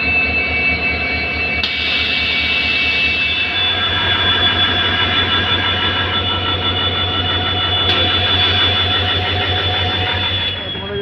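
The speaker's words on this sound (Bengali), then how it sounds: "এখনই যে ইঞ্জিনটিকে এখন খুলে আবার পিছনে কানেক্ট করা হবে, কাপলিং করা হবে যেটাকে বলা হয়।" A diesel locomotive on the Bamanhat to Coochbehar line uncouples from its coaches and runs off to couple again, giving a loud, steady engine roar with a deep low hum and a few brief sharp accents.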